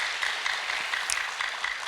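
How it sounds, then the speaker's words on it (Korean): Applause from a church congregation during a Friday worship service: continuous, fairly faint clapping of many hands with a few sharper individual claps standing out. "저 서울에서 박수를 치던데"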